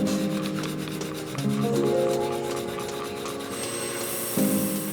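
A 120 grit slack belt grinds a steel fighting knife blade with tape on the spine, giving a loud continuous abrasive rasp that shifts in pitch as the blade is pressed and moved, with no talk.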